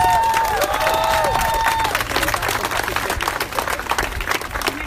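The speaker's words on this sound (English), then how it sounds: "Please give them a round of applause." Crowd applause with some cheering at a ceremony celebrating Oscar Lopez Rivera in Holyoke, dense clapping rising after a brief stretch of voices and continuing steadily through the rest.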